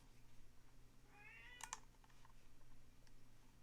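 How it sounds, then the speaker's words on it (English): A cat meows faintly in the background, a drawn-out cry followed by a couple of short calls, over quiet room hum. "Sorry, my cat is crying in the background."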